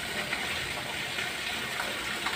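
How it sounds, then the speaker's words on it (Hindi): Heavy rain pours steadily, with water gushing into a low-lying room and overflowing a bucket, making a dense, continuous rushing wash at close range with no pauses. "बहुत ही तेज़, अभी और तेज़ बारिश होगी कि बाल्टी के अंदर से भी पानी बाहर की तरफ जा रहा है, इतनी तेज़ बारिश हो गई है।"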